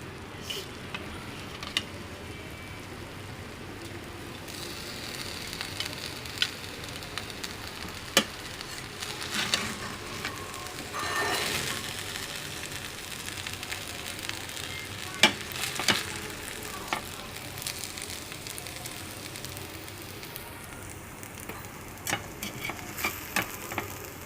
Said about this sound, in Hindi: अब हम इसको डिश आउट करेंगे।